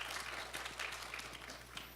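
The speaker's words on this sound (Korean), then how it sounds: "큰 박수 부탁드리겠습니다." Audience applause at a Korean horse-industry idea contest, a steady wash of many hands clapping in a hall after a policy team's presentation, continuous and fairly even throughout.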